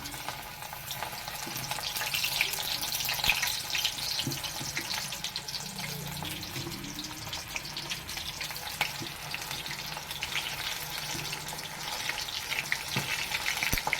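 Prawn pakoras frying in hot oil, a continuous moderate bubbling sizzle with faint clinks and some watery splashing in the background.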